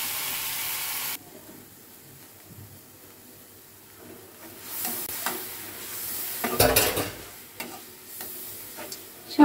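Mustard greens and eggplant leaves frying in a pan with spices, giving a soft, steady sizzle and occasional stirring scrapes that grow busier toward the end, with no talking.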